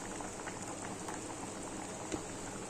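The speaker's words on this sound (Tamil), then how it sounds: "குழம்பு கொதி வந்துட்டு" Mutton curry at a steady boil in a pot, with a constant close bubbling and simmering hiss and one brief louder pop near the end. No one speaks.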